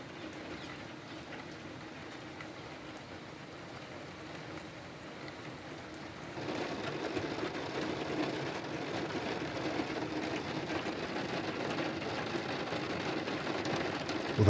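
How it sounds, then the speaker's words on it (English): Heavy rain from a spring storm pours down in a constant hiss that grows noticeably louder and denser about halfway through, with no voices. "No, it's just heavy rain."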